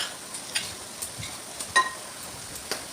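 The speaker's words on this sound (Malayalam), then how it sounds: "ഇനി നമ്മൾ എടുത്ത് വെച്ച മാങ്ങ ഇട്ട് കൊടുക്കുക." Chopped mango pieces drop into a hot pan for mango fish pickle, bringing soft crackling sizzle with scattered small taps and pops of pieces landing and shifting, fairly quiet with no voices.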